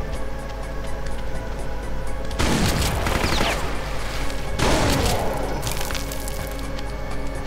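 Weapon fire in the Brutal Doom video game comes as two dense bursts of rapid, loud cracking shots, each lasting about two seconds, over a steady game background hum.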